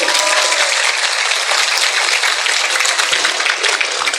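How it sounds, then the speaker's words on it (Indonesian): Audience applause for santri, Islamic boarding school students, at a humorous Islamic sermon; steady dense clapping holds loud and unbroken for the whole stretch, with no talk over it. "tepuk tangan untuk para santri"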